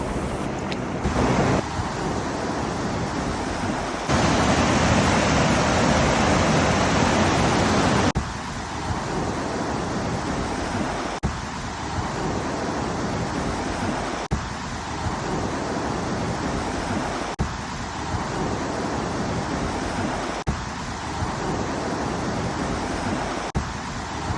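A river near a house flows with a steady, loud, unbroken rush, likely mixed with wind buffeting the microphone, and the wash holds constant throughout with no voices.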